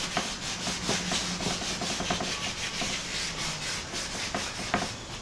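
Sandpaper or Scotch-Brite scuffing the painted surface of a CUCV M1008/M1009 grille guard, a steady rasping rub with regular back-and-forth strokes, close and moderately loud, with no talking.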